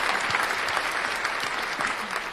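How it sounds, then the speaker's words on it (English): A church congregation claps steadily for the Lord, a dense, even wash of many hands at moderate distance with no voices standing out. "Give the Lord a big amen and a clap offering"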